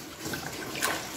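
Clean water pours steadily into a washing machine drum full of clothes, a soft continuous rushing and splashing heard up close at low volume.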